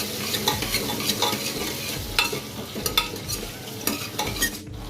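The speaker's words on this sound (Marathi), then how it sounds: "बटाटे अगोदर 2-3 मिनिटे चांगले फ्राय करून घेणार आहे" Potatoes frying and being stirred in a pan for pav bhaji, a steady close sizzle broken by repeated scraping clinks of a spoon against the pan, with no talking.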